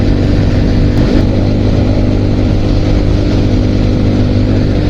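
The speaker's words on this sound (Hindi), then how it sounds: "तो हम चल रहे हैं लगभग 100 की स्पीड में, हमसे मेरा मतलब बाइक और मैं" Motorcycle cruising at about 100 km/h on the Delhi–Dehradun expressway, with a loud, steady engine drone and heavy wind rush throughout, no talking.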